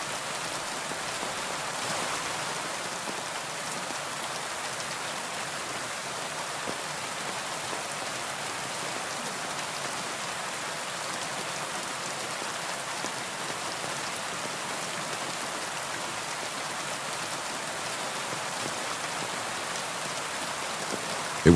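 Steady rain falls on a surface, a continuous, even hiss of countless drops that holds at a constant level throughout, with no voices.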